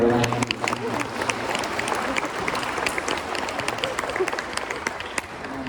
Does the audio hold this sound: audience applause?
yes